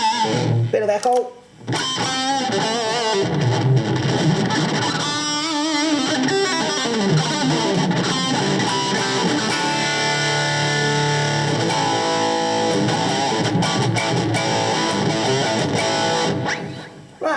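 Electric guitar run through the echo effect of a Zoom G2 Nu effects processor, loud and continuous, with sustained notes and chords trailing repeats that smear into one another after a brief drop near the start.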